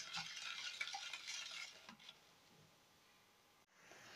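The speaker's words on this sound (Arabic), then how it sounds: "وهقلبهم كويس جدا بالمضرب اليدوي لحد ما السكر يدوب" Sugar, oil and vanilla being whisked by hand in a bowl for an eggless cake, a quick swishing and light clinking of the whisk that is busy at first and then tapers off near the end.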